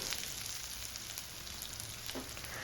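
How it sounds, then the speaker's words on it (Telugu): Thinly sliced onions fry in a pan for a pakoda broth, giving a steady, close, crackling sizzle with a faint stirring scrape partway through. "ఈ ఆనియన్ ఫ్రై అయ్యే వరకు మనం కలర్ మారే వరకు ఫ్రై చేసుకోవాలి"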